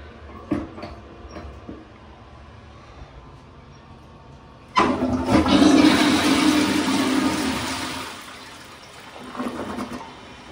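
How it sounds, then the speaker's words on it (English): A high-mount tank Eljer toilet in a general store bathroom flushes: a few soft knocks, then a sudden loud rush of water that swells for about three seconds, tapers off, and trickles as the tank refills. "That was one powerful flush."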